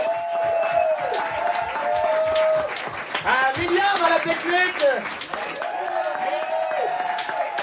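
An audience applauds and cheers at a live comedy show, a steady wash of clapping that runs under a host speaking into a microphone throughout.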